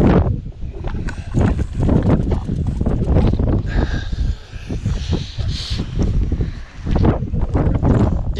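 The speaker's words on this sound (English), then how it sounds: "it is kind of windy out here" Gusting wind buffets the microphone steadily on an open high-altitude desert mountain bike trail, a loud continuous low roar with surging rises and dips throughout.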